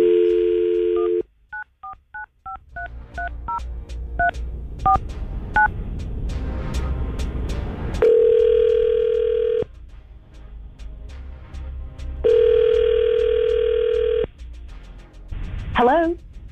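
A dial tone gives way to a quick run of keypad beeps, then steady ringback tones repeat with pauses, and a voice briefly answers at the end.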